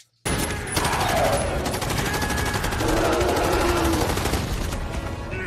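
Sustained rapid machine-gun fire and a dense fusillade from the 2009 film Avatar, loud and continuous for several seconds after a brief silent start.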